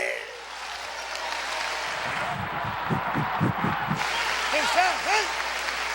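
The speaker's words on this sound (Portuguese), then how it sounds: "Aplauda Jesus Cristo." Church congregation clapping in rhythm during a worship service, steady rapid claps running throughout with a sung or chanted voice over it and a few rising vocal tones near the end.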